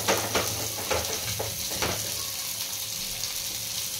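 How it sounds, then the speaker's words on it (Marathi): Bombay duck (bombil) fish frying in a pan and being flipped, a few scraping knocks early on, then a soft continuous sizzle, no speech. "तर आता पलटी मारतोय आपण."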